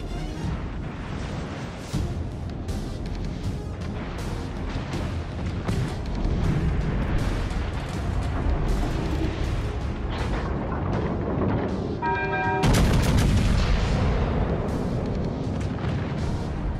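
Naval artillery fire from the battleship Massachusetts in World of Warships: Legends, a dense stream of loud booming blasts and rumbling impacts throughout, with a sharp heavy burst near the end.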